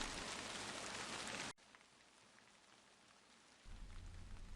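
Rain pours in the video game Purgatory 2, a loud dense hiss that abruptly drops to a quieter patter for about two seconds, then swells back to heavy downpour.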